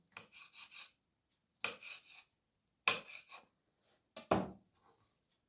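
Cooled pepper being chopped with a knife, four short bursts of quick crisp cuts against a board separated by pauses, close and fairly quiet, with no talking.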